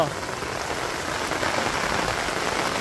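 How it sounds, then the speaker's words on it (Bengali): Light rain patters steadily in a Bangladeshi village during the rainy season, a soft, even hiss of drops on surfaces that holds at a constant level throughout with no distinct voices. "কত সুন্দর টিপ টিপ টিপ টিপ বৃষ্টি করে বানছে"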